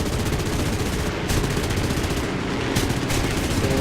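Rapid, continuous aircraft cannon fire in the video game War Thunder rattles loudly in dense bursts with steady engine drone behind it, no talking.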